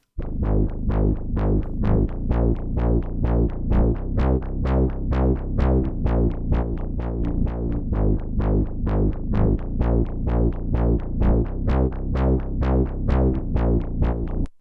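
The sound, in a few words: bass pitch-shifted an octave down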